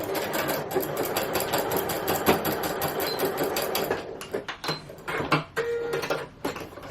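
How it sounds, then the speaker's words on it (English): A sewing machine basts fabric a quarter inch from the edge, its needle hammering in a fast steady rhythm for several seconds before breaking into short stop-start bursts, close and clear. "only baste it 1/4 of an inch from the edge"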